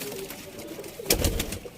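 Young Sialkoti pigeons cooing close by, soft low throaty coos with a brief rustle of wings or movement near the end, no talking.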